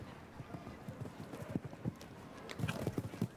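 Horse hooves clip-clop steadily on the ground at an international show jumping event, a rhythmic run of firm, fairly close hoofbeats under a busy outdoor background with faint voices.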